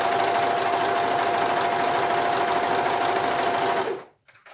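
Pfaff 1450OL Element overlocker running to sew a thread chain, a loud, steady mechanical whir close up that stops abruptly near the end.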